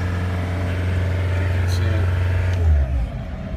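A John Deere 329D compact track loader's engine runs loud and steady on throttle, its low rumble swelling briefly near the end before settling back down.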